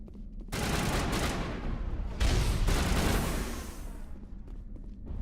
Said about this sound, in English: Oh, I love the polonium rounds.